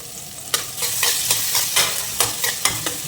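Sliced onion sizzles in hot oil in a pan while cooking tamarind rice, a loud, continuous frying hiss broken by repeated scraping strokes of a stirring spoon.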